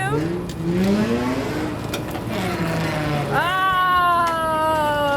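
A drift car on a street sweeps its engine pitch up and down in long revving arcs, then holds a loud high whine near the end, with a voice briefly nearby.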